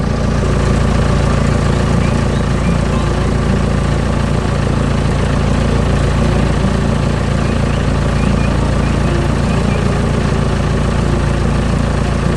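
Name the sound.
green construction tractor engine working hard on soil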